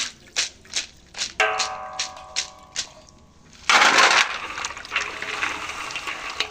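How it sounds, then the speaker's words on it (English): Hot water poured and sloshing over palm kernels during rinsing for palm kernel oil, a series of short splashy bursts with a louder rushing pour midway, then steady trickling and sloshing. "when rinsing, make sure to add hot water so as to wash out all the oil inside"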